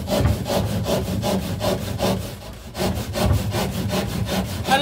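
A hand saw cuts through plasterboard in quick, regular back-and-forth strokes, close and loud, with a brief pause midway before the rhythmic rasping resumes.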